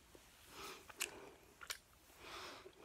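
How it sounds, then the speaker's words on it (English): Bubble Yum bubble gum being chewed up close in a quiet room: soft, wet smacks and squishes with a few sharper clicks, irregular and intimate, with no talking. "Not used to chewing gum."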